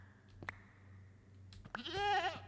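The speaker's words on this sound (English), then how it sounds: "And it's the screaming goat as well." A screaming goat in the Minecraft video game lets out one loud, wavering bleating scream near the end, after a couple of short clicks in a quiet scene.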